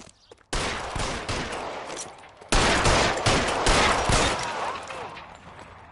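Gunfire in the LA Noire video game, a sustained fusillade of rapid overlapping shots in two dense bursts, the second louder, with no talk over it.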